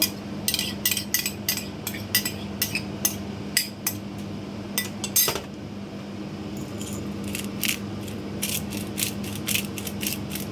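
Three eggs added to a bowl of mixed spices and stirred with utensils, a string of light clinks and taps of metal against the dish with soft wet squishes over a steady low room hum, close and without voices.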